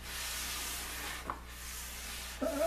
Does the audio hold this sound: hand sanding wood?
yes